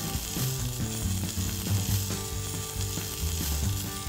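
Bacon and potatoes sizzling in small oiled portion pans, a steady loud crackling fry heard close up with some mechanical ticking and clicking mixed in, without any talking.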